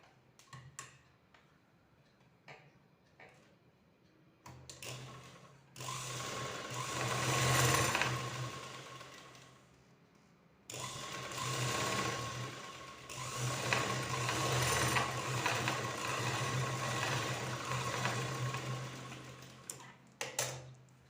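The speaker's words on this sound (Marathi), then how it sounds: "दोन्ही भाग एकावर एक असा ठेवून आपल्याला इथे शिलाई मारून घ्यायची आहे" A sewing machine stitches a puff sleeve in two long, steady whirring runs, close and moderately loud, with a brief pause between them and light ticks before and after.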